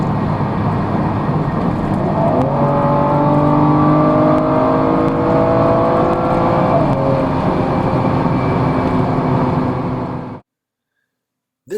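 A BMW 435i Cabrio engine with digitally enhanced sound revs loud and close, rising and falling through smooth pulls for about ten seconds before cutting off abruptly to silence.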